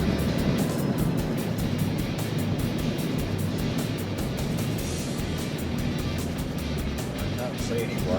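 A 4WD club vehicle drives along an emergency airstrip on Cape York, its engine and tyre roar a steady, loud broadband rumble with wind noise throughout, no distinct passes or breaks.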